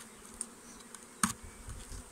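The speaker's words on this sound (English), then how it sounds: "These bees here have to be transferred because there's loads left in here." Honeybees from a nucleus colony being housed in a National hive buzz faintly and intermittently nearby, with a few brief louder passes over a quiet background.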